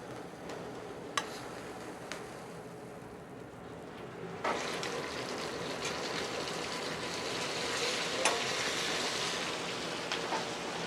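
Butter sizzling in a skillet in a Hawaiian restaurant kitchen, a steady crackling hiss that grows fuller partway through, with a few sharp ticks.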